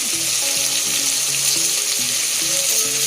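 Mixed vegetables and pulao masala sizzling in oil for paneer pulao, a constant loud frying hiss close up, with light clinks and scrapes of stirring and no voices.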